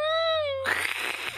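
One drawn-out cat meow, steady and tonal, is cut off by a burst of rough, noisy clatter.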